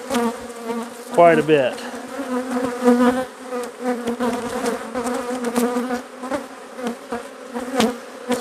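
Honeybees in an opened beehive during an inspection, a dense, droning buzz with wavering pitch and individual bees whining close by, while someone speaks briefly over it.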